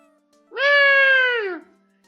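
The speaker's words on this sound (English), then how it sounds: "Ah, what a lovely cat." In the Ace Attorney: Justice For All video game, a cat gives a single clear, drawn-out meow, close and loud against near silence.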